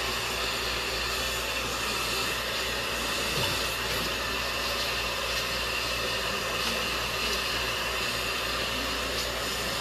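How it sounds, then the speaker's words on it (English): A handheld blow dryer runs without pause while hair is being dried and brushed during a haircut and styling session, a steady loud airy whoosh with a constant motor hum throughout. "Notice I didn't put the blow dryer down. I don't turn it off"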